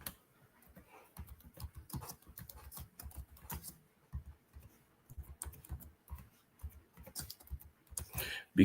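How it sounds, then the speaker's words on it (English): Computer keyboard typing, close and fairly quiet, comes in quick bursts of clicking keystrokes separated by short pauses, with no speech. "It's kind of hard to do all this typing."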